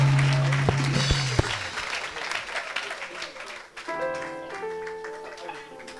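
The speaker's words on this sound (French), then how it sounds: "Acclame!" A church crowd applauds and cheers loudly during a preaching service, with steady clapping under mixed voices and tonal shouts that continue after a brief dip.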